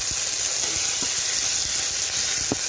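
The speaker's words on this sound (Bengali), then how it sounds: "মশলাটাকে ভালো করে কষিয়ে নেবে যতক্ষণ না মশলাটা থেকে তেল বেরোয়" Onion and chilli paste masala fries in oil, a dense, steady sizzle up close with faint intermittent taps of stirring.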